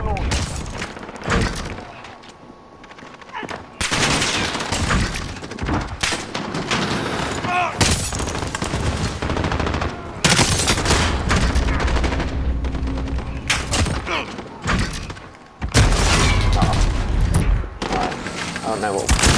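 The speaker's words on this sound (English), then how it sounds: "Cruise missile, go for launch." Explosions and heavy gunfire from Call of Duty: Modern Warfare, with repeated loud booming bursts and sustained firing across the whole stretch, a cruise missile strike among them, while a player talks over the action.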